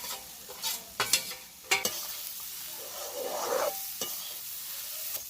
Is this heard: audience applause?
no